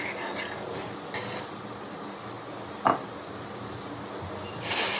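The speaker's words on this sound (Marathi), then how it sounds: "कॉर्न ॲड केल्यानंतर 4-5 मिनिट सतत फिरून घ्यायचे आहे" Boiled corn mixed with black salt and chaat masala being stirred in a pan: soft scraping and a few light clinks of the spoon against metal over a steady background hiss, with no talk.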